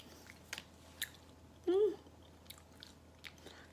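Soft, wet chewing of edible dough with small intermittent clicks and smacks up close, plus a brief voiced hum in the middle.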